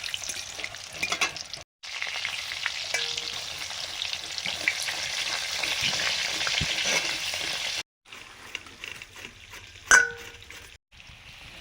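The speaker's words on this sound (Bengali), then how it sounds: "অল্প একটু হলুদ দিয়ে আলুগুলো ভাজছি।" Potatoes frying in mustard oil with turmeric: a strong, steady, close sizzle broken by brief silent cuts, with occasional stirring and a light clink of a utensil near the end.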